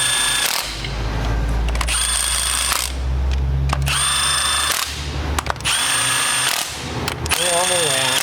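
A power tool, likely an impact driver or drill, runs down cylinder head bolts on a Hyundai iLoad engine in bursts of loud whirring, spinning up and stopping between bolts, with a ratcheting burst near the end.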